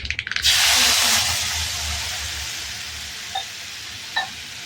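Curry leaves and chili powder hit hot oil with a sharp burst, then settle into a steady, close sizzling hiss that fades gradually. A couple of faint clinks sound near the end.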